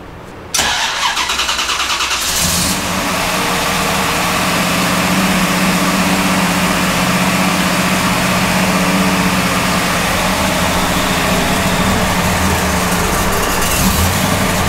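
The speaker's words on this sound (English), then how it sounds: "now we're ready to start the vehicle and see how it works now." A car engine fitted with Holley EFI cranks and catches within the first second or two, then settles into a steady, loud, fast idle that runs on alone for the rest of the clip.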